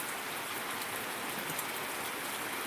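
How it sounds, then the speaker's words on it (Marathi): Unseasonal rain falling steadily over farmland in Solapur district, a dense, even hiss of drops on surfaces with no voices. "पुन्हा एकदा दररोज जोर धरत आहे पाऊस तुम्ही बघू शकता"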